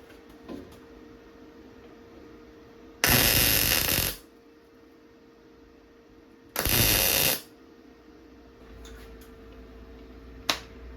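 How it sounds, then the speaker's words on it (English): Two loud bursts of welding on a car body, each roughly a second long and crackling close up, separated by quiet workshop hum and a few faint clicks. "Now I'm welding."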